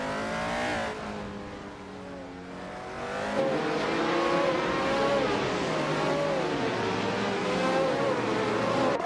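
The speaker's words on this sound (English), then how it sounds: "Balsamic Vintwu, 183, is leading in a Lotus 77 from 1976" Racing cars roar continuously in a video game that includes a 1976 Lotus 77, engines whining and shifting pitch as they accelerate and downshift, loud and steady with no talk.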